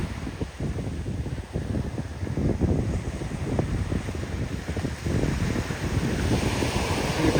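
Light waves roll onto the shore at Mattu Beach in Udupi, a continuous surf wash with wind rumbling across the microphone and no voices.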